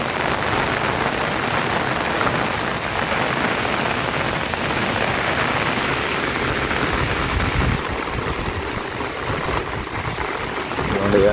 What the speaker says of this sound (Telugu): ఈరోజు పొద్దుటి నుంచి నాన్ స్టాప్గా అలా కురుతూనే ఉంది